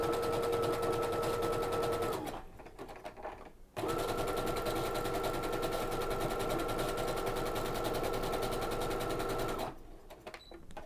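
A sewing machine stitches fabric with decorative thread, its steady high-pitched whir running loud and close, pausing briefly twice before starting up again.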